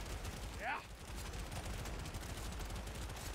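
Dense, steady gunfire from LMG turrets in the video game Deep Rock Galactic Survivors, a continuous loud barrage lasting the whole stretch with a brief rising sweep near the start and no speech over it.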